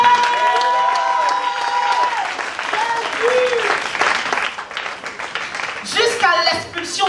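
A church congregation bursts into sustained loud applause and cheering, dense clapping carrying on throughout with voices mixed in.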